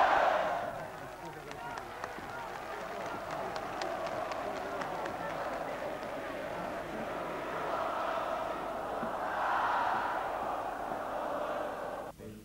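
Large welcoming crowd in Portugal greeting Soares' return, a dense continuous roar of cheering and chanting voices, steady and loud throughout with a swell near the end.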